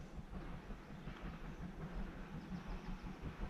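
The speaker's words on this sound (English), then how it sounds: "that's just in time for a steam train to come by" A steam train rumbles past nearby on the River Severn with a steady low roar and faint rhythmic clatter, continuous throughout with no voices.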